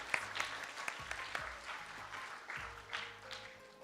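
An audience at a primary school graduation claps steadily for a few seconds, a dense patter of many hands heard from within a hall, moderately loud and without voices.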